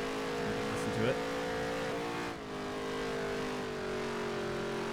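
A dirt race car in the NASCAR Heat 3 video game holds a steady, loud engine drone while sliding sideways, with a sustained tire squeal and a brief dip in revs midway. Someone talks over it.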